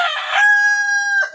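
A free-range village rooster crows once inside a coop. The call is loud, close and sustained, with a brief rough tail at the end and no talk over it.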